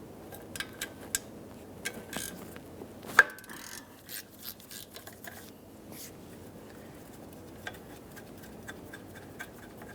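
A 13mm ratchet loosens mounting bolts on a metal shield under a 2002-2009 Chevrolet Trailblazer 4.2L, giving quick, faint ticking clicks in short runs, plus one louder metallic clank and scattered small knocks.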